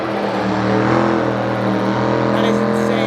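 A 2,000-horsepower drift truck engine revs loudly at a car show, a steady powerful drone that holds and swells slightly, close and dominant, with crowd noise around it.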